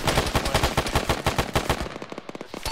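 Rapid machine-gun fire rattles continuously through a video game firefight, loud and close with sharp repeated bursts that thin out toward the end.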